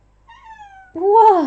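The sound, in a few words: cat meowing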